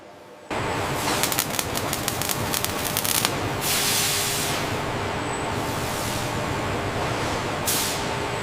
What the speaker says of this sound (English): the Volvo cab receives its critical anti-corrosion layer, applied flawlessly by the synchronized robotic systems.